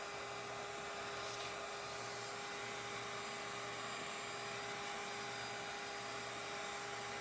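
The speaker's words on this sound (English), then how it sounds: "I can vacuum them up and get them in the vacuum." A vacuum sucks up yellow jacket wasps from an underground ground nest beside a house, a continuous loud motor whine and airflow roar running steadily throughout, no talking.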